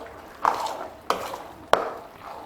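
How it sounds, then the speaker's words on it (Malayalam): A spoon stirs semiya with curd and salt in a pot, giving three distinct scraping clinks against the pot, each followed by softer mixing rustle, close and alone. "നന്നായിട്ട് ഇളക്കി യോജിപ്പിക്കുക"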